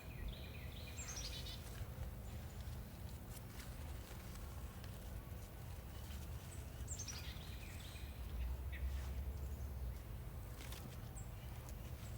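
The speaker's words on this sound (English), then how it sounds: "I hear the birds." Faint birds chirp now and then in the distance, a few brief calls over a steady outdoor background hiss.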